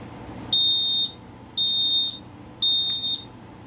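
A smoke alarm in drill mode sounds three loud, piercing high-pitched beeps, each about half a second long, evenly spaced about a second apart against a quiet background.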